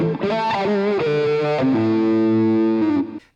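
A fuzzy, distorted electric guitar through a Jam Wahcko wah pedal in its fourth position plays a short run of notes with a nasal, filtered wah tone, then stops abruptly.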